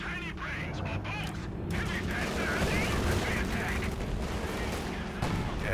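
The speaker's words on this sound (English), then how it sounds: "the Americans do attempt to get out of that butchering machine gun" Rapid machine gun fire rattles nonstop in Company of Heroes 2, as dense bursts of shots and battle noise run under a commentator's voice.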